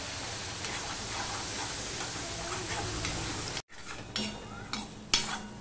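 Slit green chillies drop into hot oil and spices being cooked down for an ash gourd curry, with a continuous sizzle and clinking stirs; a brief break is followed by sharper scraping strokes.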